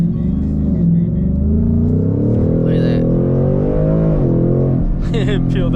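A Ford Mustang Mach 1 engine revs loud and close from inside the car, a deep rising roar that climbs and falls under people talking, though any tire peel is not distinct.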